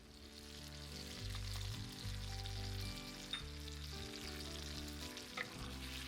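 A topping of peach, maple syrup and toasted pecans bubbles and simmers in a pan with a soft, steady sizzle and a low hum of kitchen background, no voices.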